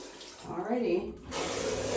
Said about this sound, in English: rinse all of these walls